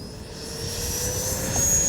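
An FMS Super Scorpion RC jet's turbine whines steadily and builds slightly in loudness as it begins its takeoff run on grass, close by and with no talk.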